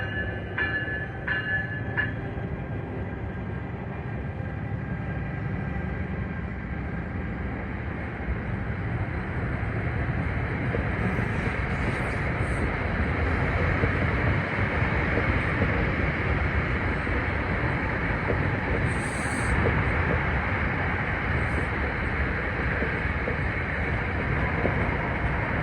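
An EMD diesel commuter train rolls through Secaucus in a long, steady rumble of wheels and engine, with faint bell-like dings at the start and a brief high squeal later on.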